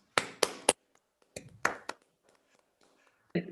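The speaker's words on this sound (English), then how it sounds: "Let us applaud Cyrus" Applause at a university open day opening ceremony, heard as a few sharp, scattered hand claps in short bursts with quiet gaps between them, faint overall, with a brief voice at the end.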